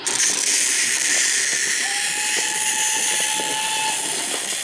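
Dromy the steam engine pulls away, a loud steady hiss of steam with rhythmic chuffing and a faint whistle-like tone running through, no voices.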